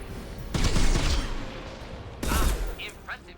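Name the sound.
gunfire in video game Mass Effect 2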